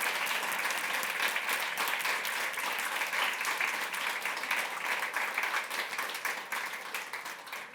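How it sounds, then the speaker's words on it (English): A conference audience at a women's empowerment event breaks into loud, sustained applause, a dense wash of many hands that stays strong and then begins to taper off near the end. "Please, a huge round of applause to yourself."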